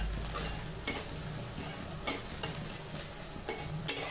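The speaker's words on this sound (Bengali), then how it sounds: "এইভাবে লালচে লালচে মতো পেঁয়াজটা ভাজা হবে" Onions fry in a pan for an egg curry with a steady soft sizzle, broken by a sharp scrape and clink of a utensil stirring against the metal every second or so.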